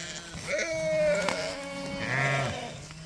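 Romanov sheep, a small, prolific breed, bleating up close in a pasture, with two wavering bleats in quick succession over a low background murmur.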